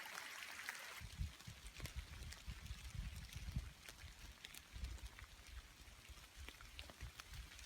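Rain falls steadily on the Appalachian Trail near Watauga Lake, a soft continuous patter with scattered sharper drops, fairly quiet and close with no voices.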